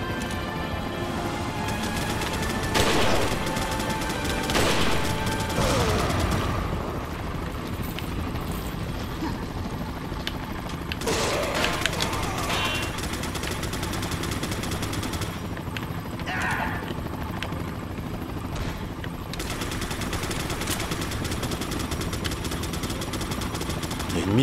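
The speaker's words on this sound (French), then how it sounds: "Il y a une mitraillette quelque part" Rapid machine gun fire rattles through a noisy action scene in the video game Resident Evil 4, with dense bursts and loud impacts layered over a busy background for most of the stretch.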